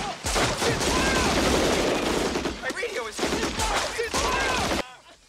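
Gunfire in a jungle counter-ambush: dense bursts of automatic fire and overlapping shots crackle loudly and close, with brief lulls between volleys before an abrupt cutoff near the end.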